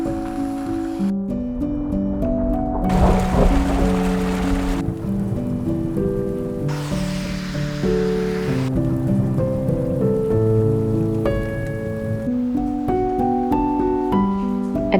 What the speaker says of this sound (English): the beautiful sound of rain hitting my roof and sliding down my windows.